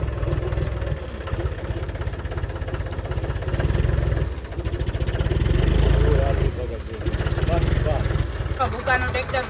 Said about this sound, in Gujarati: ભૂકો ભરવાનો છે લોડરથી